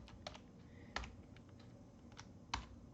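Python code being typed on a computer keyboard: sparse, fairly quiet key clicks with a few sharper strikes, alone with no talk.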